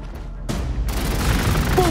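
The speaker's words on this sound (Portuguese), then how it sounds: "Putz, tomei tiro." A burst of gunfire from the Warhammer 40k: Gladius Space Marine video game erupts suddenly after a quiet moment and continues as a dense, noisy volley to the end.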